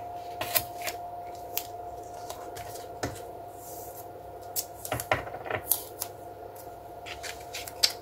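Scissors snipping paper while making a vintage-style craft card, scattered short cuts and rustles at close range over a quiet background with a faint steady hum.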